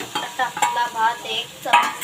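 Cooked rice is stirred and fried in a pan with salt, making repeated scraping and clattering strokes of the utensil in short bursts over a light sizzle.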